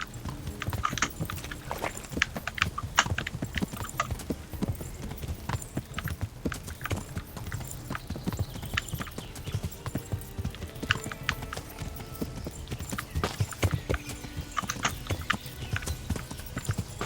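Horse hooves clip-clopping in the medieval video game Kingdom Come: Deliverance, a steady run of close, loud hoofbeats with occasional faint whinny-like sounds, continuing throughout with no talk.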